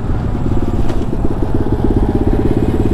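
A Taotao DB17 125 dirt bike with an upgraded carburetor runs loud and close, its single-cylinder engine putting out a rapid, steady popping putter with a rough edge throughout.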